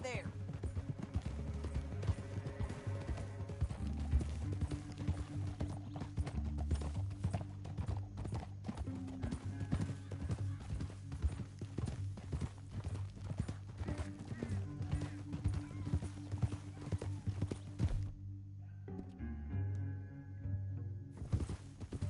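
Horses gallop in the Red Dead Redemption 2 video game, their hooves pounding in a fast, continuous clip-clop rhythm over a low rumble for most of the stretch before it briefly drops away near the end.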